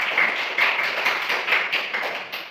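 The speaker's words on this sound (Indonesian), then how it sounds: "Tepuk tangan untuk anak Albert Datum." Young schoolchildren clap in unison for a classmate during a primary-school addition lesson, a steady series of about six loud, evenly timed group claps in a classroom.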